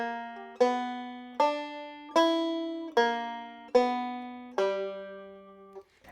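A bluegrass banjo picks an Earl Scruggs-style single-string lick, seven bright plucked notes with ringing decay in a steady, slightly bouncing rhythm, played close and alone.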